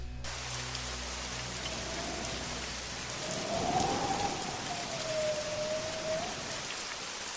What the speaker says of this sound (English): The rain has been falling since dawn, not the gentle kind, not the cleansing kind.